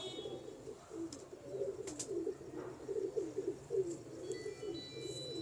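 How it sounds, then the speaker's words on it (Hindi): Teddy-type pigeons kept by a breeder coo in low, rolling repeated calls, faint and steady throughout, with occasional light rustles and no talk. "टेडी कबूतरों में से है ये चौधरी साहब वाले कबूतरों में से निकलते हैं इस तरह के।"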